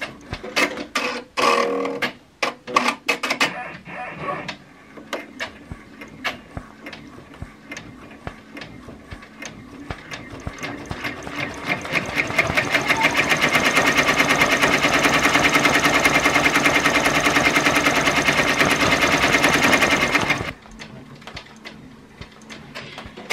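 An embroidery machine stitches a fluffy teddy and bunny appliqué, a rapid mechanical rattling that starts with a few taps, builds to a steady loud whir for several seconds, then stops abruptly.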